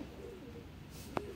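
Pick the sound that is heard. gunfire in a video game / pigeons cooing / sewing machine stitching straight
pigeons cooing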